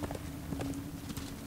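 A horse gallops in the Darksiders 2 video game, its rapid clip-clop hoofbeats drumming evenly and close up for a brief moment, with no voices over it.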